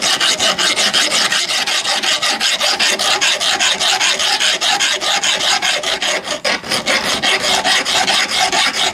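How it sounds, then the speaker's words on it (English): A metal file rasps hard and close across the edge of a Bomford hedge trimmer part, taking off burrs in quick, rhythmic back-and-forth strokes that go on steadily throughout. "I'm just going to take that edge off there with the file"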